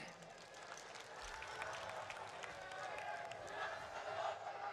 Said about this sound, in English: This crowd is hype.